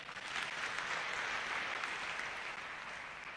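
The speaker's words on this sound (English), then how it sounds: "Give yourselves a clap." Audience applause at a public gathering, a steady wash of many hands clapping that fills the whole span without a break.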